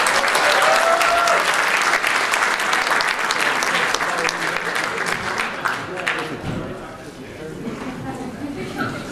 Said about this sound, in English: Give him a nice round of applause, Dr. Robert Bier.